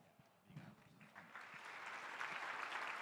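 A church congregation claps in praise at a seventh-anniversary service, broad applause that starts thin, then swells into steady, dense clapping that fills the space by the end.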